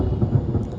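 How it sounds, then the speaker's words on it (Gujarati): Thunder during a summer rainstorm with wind in Keshod, Gujarat: a deep, continuous low rumble that stays loud and rolling for the whole brief moment, with no voices. "ગાજવીજ સાથે વરસાદ"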